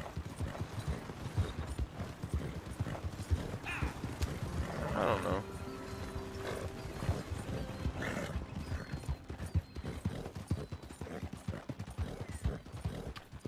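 Horse hooves clip-clop in Red Dead Redemption 2, a steady trotting rhythm under game music, with a brief whinny midway and someone talking over it.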